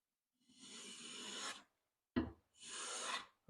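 Hand plane taking shavings off a high spot in the middle of a wooden board, heard as two long rasping strokes with a brief knock between them, close and clear with no talking.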